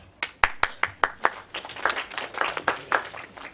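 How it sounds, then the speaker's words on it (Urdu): An audience gives light, sparse applause, a dozen or so distinct close claps in an uneven rhythm that thins out over a few seconds with no voices. "بہت ہلکی تالیاں بجیں۔"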